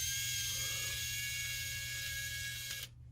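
A small battery-powered electric screwdriver from Action whines steadily up close with a high motor hum, then cuts off abruptly near the end.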